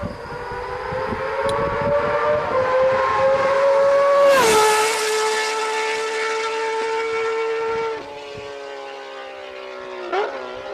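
An inline-six motorcycle engine wails loudly at high revs with strong steady harmonics, pitch shifting as it accelerates and passes, then easing off toward the end.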